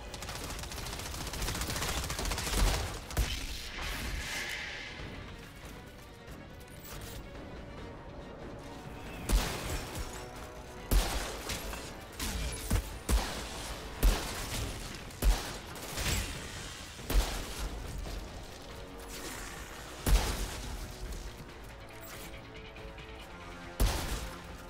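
Sniper shots and other gunfire in the video game Outriders, a long run of sharp, loud cracks at irregular intervals over a dense wash of battle noise.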